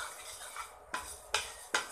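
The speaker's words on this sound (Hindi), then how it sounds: "ऐसे भून चलाते हुए इन्हें भूनेंगे और लो फ्लेम पर भूनेंगे, जिससे कि ये मसाले जले नहीं" A utensil stirs fennel seeds and spices dry-roasting in a pan over a low flame. A soft scraping bed is broken by three sharp, evenly spaced metallic taps against the pan.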